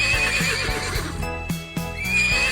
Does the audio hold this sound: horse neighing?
yes